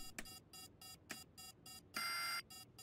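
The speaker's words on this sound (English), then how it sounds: "Alarm's going off." Electronic alarm in the video game The Day Before, a series of sharp evenly spaced beeps followed by one longer sustained tone, moderately loud with no talk over it.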